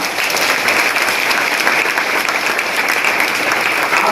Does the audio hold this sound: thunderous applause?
yes